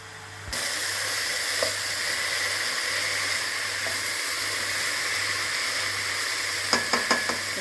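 Vegetables fry in a hot pan for Hyderabad-style veg biryani, a loud continuous sizzle and hiss with a low hum and a few quick utensil clicks near the end, with no speech.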